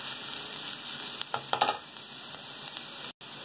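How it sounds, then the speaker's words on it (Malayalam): Ginger and garlic frying in a pan for a dry garlic chutney, giving a quiet, steady sizzle with a few brief clatters of stirring near the middle and a short drop-out near the end. "ജിഞ്ചർ ഗാർലിക് ഇട്ടിട്ടുണ്ട്, നല്ലതുപോലെ ഒന്ന് ഫ്രൈ ചെയ്തെടുക്കാം"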